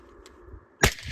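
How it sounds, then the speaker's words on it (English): A suppressed rifle fires supersonic ammunition into a mountainside at a range: one sharp, loud crack after a quiet lead-in, followed by a short echo. "So I put some supersonic ammo in this."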